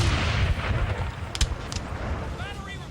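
An artillery gun battery firing in a Napoleon Total War battle at Wilson's Creek, heard as rolling, distant booms and rumbling cannon blasts over a dense battlefield din, with a brief sharper crack midway.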